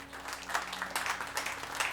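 A church congregation applauding during a French-language sermon, a steady patter of many hands clapping at moderate volume with a faint low hum beneath.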